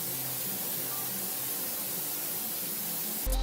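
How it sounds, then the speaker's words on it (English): Spray guns coating a wall with paint give a steady, loud broadband hiss that runs unbroken for about three seconds before a sharp shift at the end. "This painter must be a master marksman in the world of spray painting."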